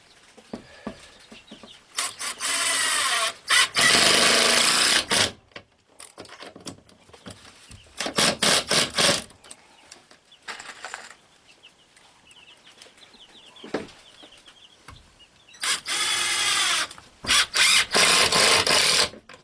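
A power drill whirs in several bursts of a few seconds each, drilling into cheap plywood near its edges, separated by quieter pauses with small clicks and handling sounds.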